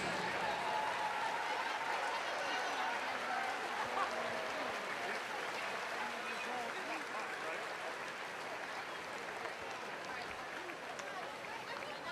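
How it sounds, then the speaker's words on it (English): Stadium crowd applauding scholar athletes at a Ball State versus Western Michigan football game, a broad, distant wash of clapping and crowd noise that holds steady for about twelve seconds. "Let's give them all a huge round of applause."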